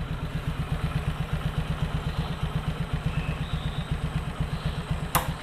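A Suzuki Skydrive scooter engine idles after a parts upgrade, a close, even rapid putter with a steady rhythm and a brief sharp click near the end, no talking.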